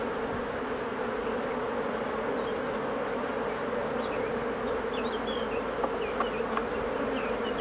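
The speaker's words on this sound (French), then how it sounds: "il y a tellement d'abeilles qui veulent monter dans les hausses" Dense, continuous buzzing comes from a mass of honeybees crowding around an open beehive whose bees are climbing up into the honey supers. The drone holds steady and close, with individual bees whining past now and then, and no talking.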